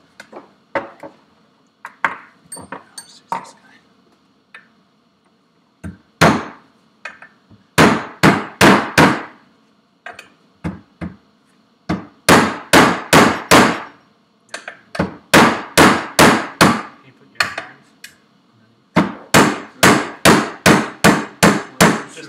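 Hammer blows punching a part out of a Vespa P125 scooter engine during a rebuild, with sharp metallic strikes in rapid bursts of several hits, separated by short pauses, loud and close, with no talking.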